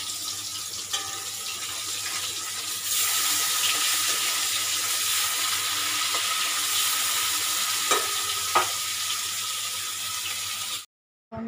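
Food fries and is stirred in a home kitchen pan, with okra frying and rice cooking nearby. A steady, close sizzle runs throughout, with a few scrapes and clinks of the spoon, before a brief cut near the end.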